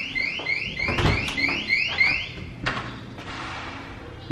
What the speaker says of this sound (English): I think there's a fire alarm going off outside